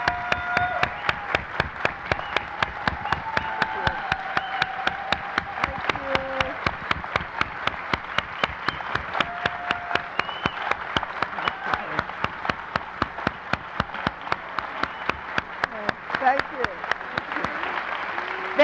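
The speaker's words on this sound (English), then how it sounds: "give the most stirring applause for this goddess" Audience applause for dancer Judith Jamison at a YBCA evening event, sustained dense clapping from a crowd for the full stretch, steady and fairly loud with faint voices underneath.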